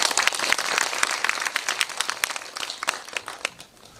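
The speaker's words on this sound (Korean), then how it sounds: "박수 한번 부탁드리겠습니다" Audience applause after a film screening discussion, a dense crackle of many hands clapping at close to moderate distance that stays steady for several seconds, then thins out and fades toward the end.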